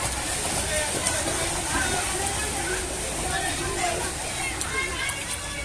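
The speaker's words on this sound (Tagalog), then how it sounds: "Alon na, grabe alon." Flood water surges through Magsaysay street, a steady close wash of sloshing waves and splashing that continues without pause, with voices faintly under it.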